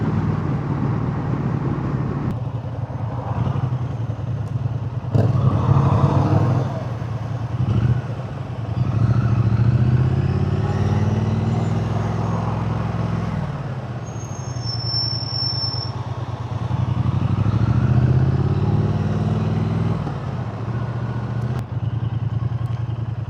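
A Triumph Speed Twin 900 rides through English village roads, its engine a steady, continuous drone with rises and falls in pitch as the throttle and gears change, close and loud throughout.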